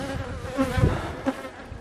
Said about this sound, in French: il y a quelques abeilles dedans qui nettoient en fait les alvéoles